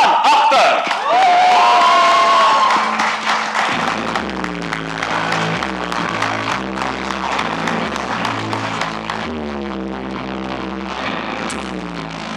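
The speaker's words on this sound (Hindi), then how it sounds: "जोरदार तालियों से स्वागत कीजिए फरहान" A crowd at the Mirzapur Season 3 trailer launch bursts into loud cheering and applause to welcome producer Farhan Akhtar, and after a few seconds the noise gives way to loud music with a steady beat. A single name is spoken briefly.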